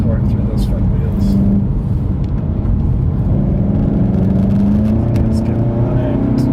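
A car with an E888 engine driving through its front wheels, set to sport throttle and sport noise mode on a forested mountain road, gives a loud steady low rumble close up, with talking over it.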